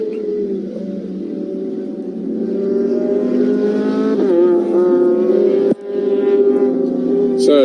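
Race car engines drone loud and steady at a Nürburgring Nordschleife endurance race, a sustained buzzing note that shifts pitch as cars pass, broken by one sharp cut near the end.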